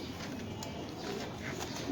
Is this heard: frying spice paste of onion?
no